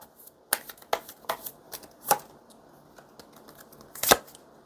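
Tarot cards are shuffled and drawn close up, a series of crisp riffling snaps and soft slides in irregular bursts, the final flick loudest.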